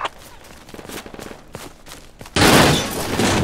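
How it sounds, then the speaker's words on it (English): A .50 cal machine gun opens up in a military shooter game, a dense, loud burst of heavy fire arriving suddenly after quieter scattered thumps and faint movement, close and sustained for about a second before easing slightly. "Taking fire by a 50 cal."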